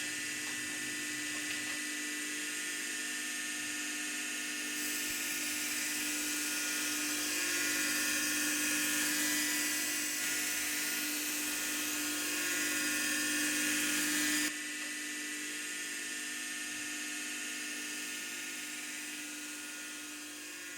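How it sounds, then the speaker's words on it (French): A small saw cuts surplus rock off a glass slide while thin sections are made, giving a continuous high whining buzz that gets louder and harsher midway while the blade bites, then eases back to a steady motor hum. "on va procéder à un sciage pour éliminer ce surplus de roche."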